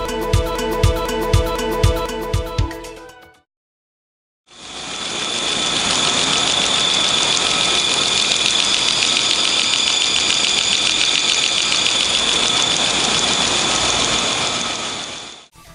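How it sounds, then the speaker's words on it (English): A short run of rhythmic mechanical knocking, a brief silence, then a loud, steady high-pitched squeal of a slipping drive belt that continues without a break. "Squealing, slipping belts are often ignored"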